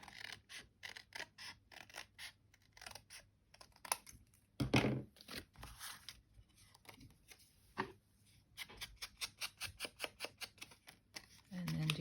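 Scissors snip through a journaling card in quick, close, crisp cuts: scattered at first, then a steady run of rapid snips near the end, with handling noises between.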